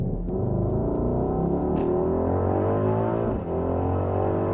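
Deep, heavy engine drone from a 2021 Mercedes-AMG GLE 63 S, steady and close with layered low harmonics, a brief dip near the end like a gear shift.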